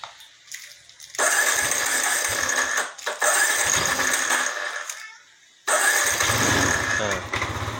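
A Yamaha Nmax scooter with a hard-starting engine is cranked and fires up in repeated revving bursts with short gaps between them, close and loud, while someone talks over it.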